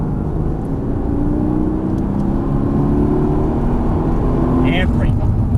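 A Mercedes-AMG GT S is driven on a race track, its engine droning steadily with a rising harmonic tone under a constant loud cabin roar, while an instructor talks over it.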